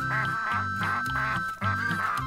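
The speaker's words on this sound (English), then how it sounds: "it was funny to hear Button imitating their quacking noise" Ducks at a farm duck pond at Tam O Shanter Farm in spring, quacking loudly and close in a quick run of about five rhythmic quacks.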